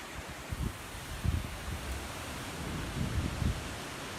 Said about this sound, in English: these winds have just picked up